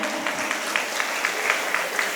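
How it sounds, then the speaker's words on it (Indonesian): Applause from students at a school outreach event in Kediri, a steady patter of clapping with faint periodic accents, moderately distant and without talk. "Tepuk tangan."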